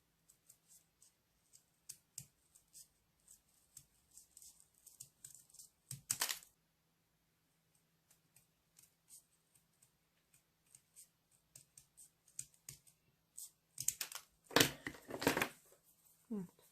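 Paper being cut for a 3D pop-up card, with soft intermittent snips and small clicks spread across the clip, growing into a louder burst of crisp cutting and crinkling near the end, close and fairly quiet.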